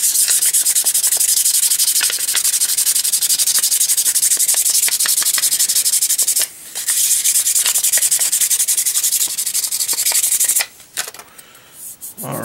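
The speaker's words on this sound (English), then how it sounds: "So this is 1000 grit sandpaper." Well-worn 1000 grit sandpaper rubs lightly over a spoon in a continuous, loud, close scratchy hiss, with two brief pauses near the end.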